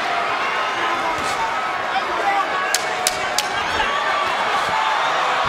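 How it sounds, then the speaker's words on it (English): Boxing arena crowd at the Tim Bradley versus Manny Pacquiao fight, a dense continuous roar of chanting fans filling the space, with a few sharp cracks poking through near the end. "The crowd going for Manny Pacquiao. The chants going up."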